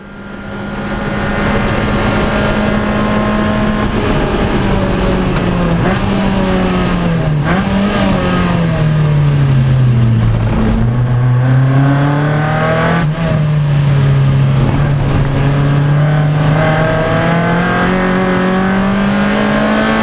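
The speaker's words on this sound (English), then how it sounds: "This is the Class B BMW coming through." Lotus and BMW race cars, including a Class B BMW, at Anglesey circuit during a roadsports race: a loud, continuous engine drone rising and falling in pitch through gear changes and revs, with no talk.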